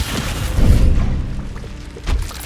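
Confringo blasting spell in Hogwarts Legacy erupts as a deep booming explosion with heavy thuds, swelling loud and close, then a second blast bursts near the end over a low rumbling game soundscape.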